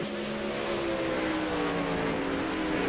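Race cars rolling out onto a track at Lanier, a steady continuous engine drone with layered harmonic whine, fairly close and unbroken with no talk over it.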